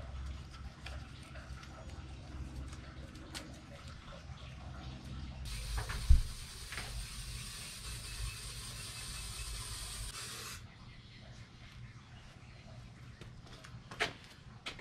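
An aerosol can sprays paint onto a Dometic RTX 2000 air conditioner cover, giving a steady close hiss that lasts several seconds in the middle before cutting off, set against quiet low background rumble.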